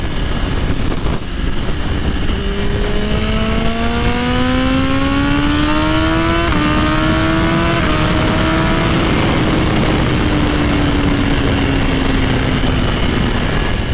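A 2020 BMW S1000RR sport bike accelerates hard, its engine whine climbing steeply through the gears with a brief dip at a shift before it settles and fades into the distance over a constant background roar.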